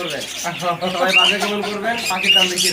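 Many caged cockatiels and other pet birds chirping and squawking close by, a busy chorus of calls running over a person talking.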